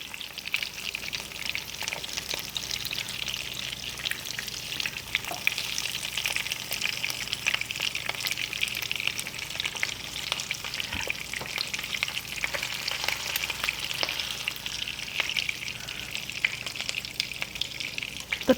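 Tilapia fillets frying in a hot pan give off a steady, close sizzle with crackling spatter that holds constant throughout, with no voices.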